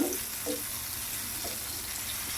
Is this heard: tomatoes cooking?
yes